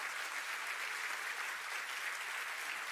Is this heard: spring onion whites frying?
no